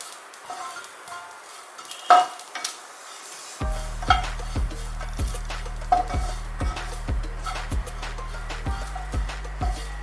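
Grated coconut is dry-roasted for Kerala theeyal and stirred in a pan, producing a steady sizzle with regular scraping and clinking strokes of a spoon against the metal, close and clear, no voices.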